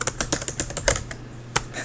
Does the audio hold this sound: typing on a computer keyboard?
yes